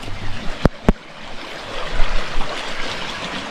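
A river rushes past after flooding, a steady broad wash of flowing water with two sharp knocks near the start and surges in the flow afterward.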